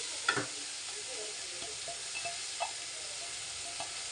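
Squeezed puffed rice stirred into a masala sautéing in a pan for spicy kara pori, with a soft steady sizzle under a few light scraping clinks of the spoon.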